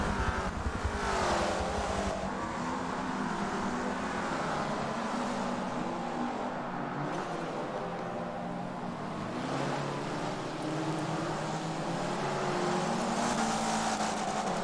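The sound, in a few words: race car engines in Forza video game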